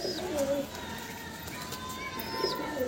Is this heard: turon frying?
no